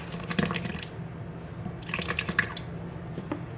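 Buttermilk mixture is poured into a mixer for gingerbread batter, giving close, wet dripping and splashing in a couple of bursts over a low steady hum.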